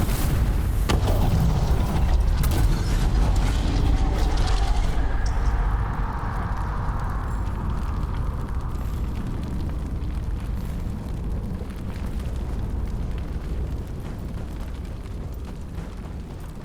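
A huge explosion erupts as the Blight creature Vashadon is destroyed in Dragon Age: The Veilguard, a loud sustained roaring blast with deep rumble that slowly fades into a lingering low rumble.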